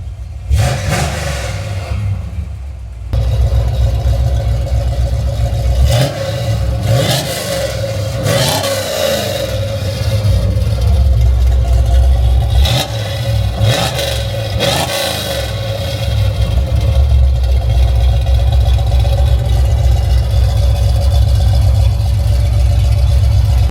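A Chevelle's stock 327 V8 with no aftermarket camshaft revs through mufflers and an X pipe, the loud rumble rising and falling in repeated throttle blips over a steady idle, close up and with no talk.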